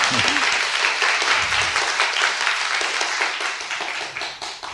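Brisk studio applause from a small group during a Korean political talk show, a dense patter of hand claps that holds steady, then thins and fades toward the end.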